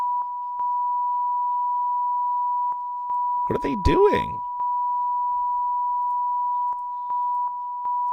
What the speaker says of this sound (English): So, why is it beeping?